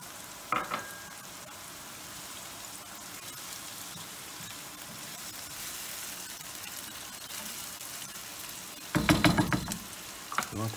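Onions and garlic sizzle steadily in a pan for pasta with broccoli, a close, even crackle throughout, broken by a short clatter near the start and a louder burst of stirring or scraping toward the end.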